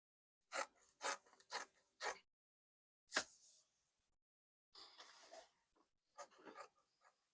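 Kaftan dress fabric being cut out, heard as short crisp rasping cuts in quick bursts, a few sharp snips followed by longer softer scraping strokes with quiet pauses between them.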